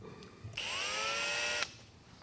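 A regular-shank Matco HyperStep step drill bit, three-quarter size with a quarter-inch pilot, bores into a truck ball. One steady high-pitched whine lasts about a second and stops abruptly, close and loud against quiet shop background.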